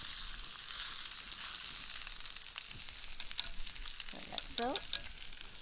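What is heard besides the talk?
stir-frying tofu with ginger, garlic, spring onion in clay pot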